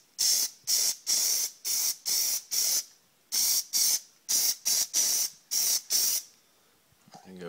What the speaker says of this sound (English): Now I sprayed that on pretty heavy.